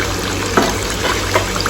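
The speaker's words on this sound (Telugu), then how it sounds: "కొద్దిగా అంత వాటర్ కూడా ఇందులో పోసుకొని" A small amount of water is poured into a spicy eggplant curry paste in a pan, a soft liquid trickle and splash with a couple of brief louder splashes over a low background hum.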